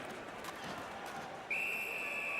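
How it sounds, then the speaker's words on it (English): Referee's whistle at an ice hockey game, a single sustained shrill blast sounding over the steady noise of a crowd in the arena. "A whistle and a rest."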